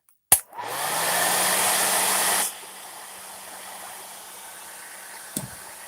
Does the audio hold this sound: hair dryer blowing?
yes